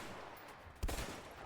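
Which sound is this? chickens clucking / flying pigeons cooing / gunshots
gunshots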